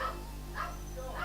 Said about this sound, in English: I'm sorry if you can hear the dogs barking.